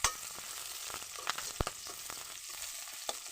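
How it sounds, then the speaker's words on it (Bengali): Green chillies, chopped onion and garlic frying in hot oil over a wood fire, a quiet continuous sizzle broken by a few sharp stirring clicks and crackles, heard alone. "কাঁচা লঙ্কা চেরা, পেঁয়াজ কুচি, রসুন কুচি দিয়ে দেবো এর ভিতরে,"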